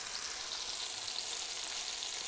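Onion rings fry in hot oil, a soft, steady, broadband sizzle heard up close and fairly quiet, with no voices over it.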